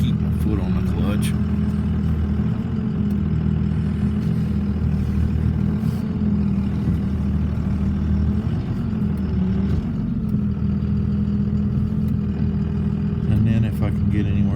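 A tractor engine idles steadily with a low, continuous rumble while a hay bale is being unrolled for feeding cows and calves, the drone holding constant throughout.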